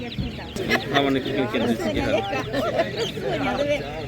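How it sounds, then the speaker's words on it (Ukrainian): Chicks and chickens cheep and cluck at an animal market, a busy chorus close by, mixed with people talking over it. "Дуже гарний курчата."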